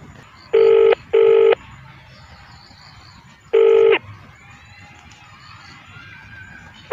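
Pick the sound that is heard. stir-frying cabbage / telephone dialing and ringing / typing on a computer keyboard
telephone dialing and ringing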